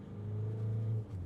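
Mazda BT-50 2.2L turbo-diesel pickup with an 8-speed automatic, a steady low engine drone heard from inside the cab, with a brief dip near the end as the gearbox upshifts.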